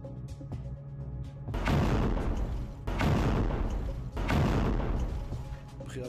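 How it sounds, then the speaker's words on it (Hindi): Explosions from Hezbollah rocket attacks over Safed: three heavy, booming blasts, each followed by a long, rumbling decay. Faint rumbling sits between them, with no speech. "धमाके सुने गए।"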